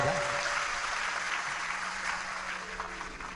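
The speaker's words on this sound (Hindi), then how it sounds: "जोरदार ताली बजाओ" An audience at a live Hindu Shiv Mahapuran religious discourse claps in a steady wash of applause, moderately loud and sustained throughout, with a faint voice underneath.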